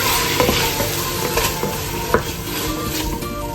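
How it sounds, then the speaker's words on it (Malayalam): Onion, capsicum and blended tomato paste sauté in a pan, giving a steady loud sizzle under scraping spatula strokes with occasional clinks against the pan. "ചെറുതായിട്ട് വഴറ്റി കൊടുക്കാം."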